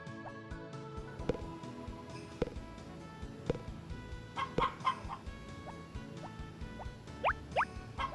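Hens on a farm in Harvest Moon: Back to Nature cluck in short, scattered bursts over a quiet game backdrop, with several clucks clustered near the end.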